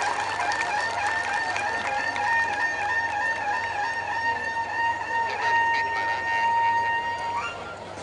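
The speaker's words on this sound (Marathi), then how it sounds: "एकदा राणे साहेबांसाठी उत्स्फूर्त आणि उदंड टाळ्यांचा प्रतिसाद होऊ दे" Outdoor crowd applause at a birthday celebration for an MLA in an open ground in Malvan, Sindhudurg, a sustained, dense clatter of many hands lasting throughout, with steady tonal hum and whistle-like tones running underneath.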